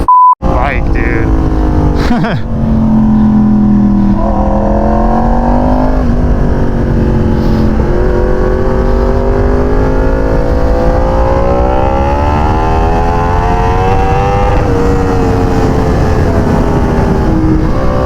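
A Suzuki GSX-R sport motorcycle engine roars loudly and continuously, pitch climbing through revs and gears as it accelerates, with people talking over the noise.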